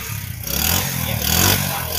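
A used Honda motorcycle engine is started, then idles and revs up twice with a loud, near, rough mid-pitched roar and no talking.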